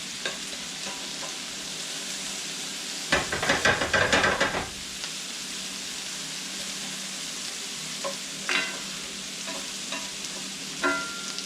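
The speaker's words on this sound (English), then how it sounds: "important to kind of keep your onions working around, especially when you're dealing with really high heat" Onions and serrano peppers stirred over high heat in a pan for chicken curry. A steady close sizzle runs throughout, broken by one loud scraping, hissing burst of stirring and a few lighter scrapes later, with no talk.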